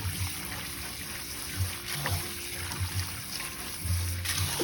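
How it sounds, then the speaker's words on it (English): Sea moss is rubbed together and rinsed in a basin of water, giving a steady close-up sloshing and trickling with soft squelches and occasional louder splashes. "I just take the sea moss and kind of rub it together"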